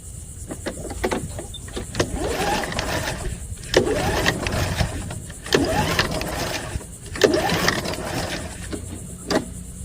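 Repeated pull-cord starts on a Toro 22-inch Recycler lawn mower with no spark, several rhythmic ratcheting pulls spaced a couple of seconds apart, the engine turning over without firing.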